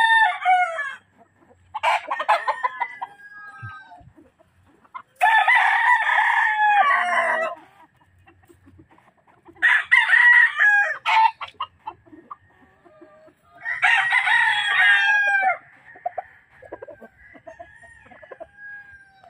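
A Pure Raptor sweater gamefowl rooster crows four times, each loud, close call lasting a couple of seconds with pauses between, alone without talk.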